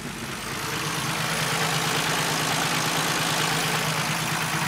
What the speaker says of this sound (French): le moteur est complètement en couille, tu vois.